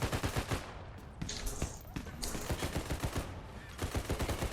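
Rapid automatic gunfire cutting down zombies in the Village map of Call of Duty Zombies, dense bursts of shots in fast rhythm, loud and nearly continuous, with brief talk underneath.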